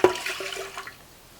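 Water poured over washed rice in a pot while making sweet pongal, a brief rushing splash that starts loud and fades over about a second.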